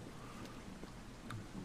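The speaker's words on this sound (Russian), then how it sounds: "Капли дождя не попадают на главную героиню, видимо." Rain falling in the video game Beyond: Two Souls, a soft continuous patter of drops on surfaces, faint and steady with a few slightly sharper splashes, no voices.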